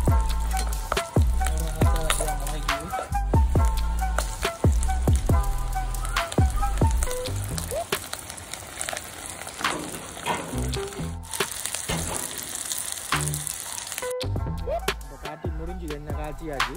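Herbal hair oil with small onions simmers and sizzles in a pan, its bubbling crackle mostly buried under plucked background music.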